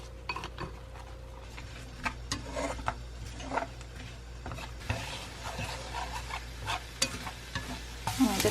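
Shredded cabbage is stir-fried in a pan with a soft sizzle under repeated scraping and tapping of a utensil against the pan, close up and without speech.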